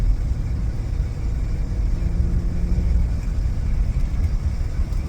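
A 1993 Lincoln Mark VIII driving, heard from inside the cabin as a steady low engine and road rumble that stays fairly loud throughout with no talk over it.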